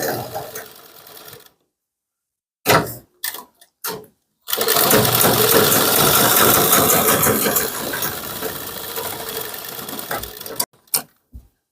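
A sewing machine stitches a kurti seam, starting with short stop-and-go bursts before a long continuous run that eases down, then a few final quick bursts, heard up close.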